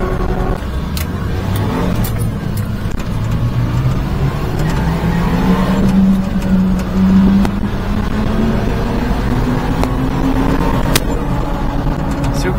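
Inside a Daihatsu Atrai micro van on the road, the small engine drones steadily and rises in pitch as it pulls from low revs, with road noise throughout and voices murmuring over it.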